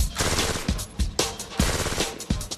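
IAR automatic rifle firing in short, loud, close bursts: sharp repeated cracks in quick succession with brief gaps between strings of shots.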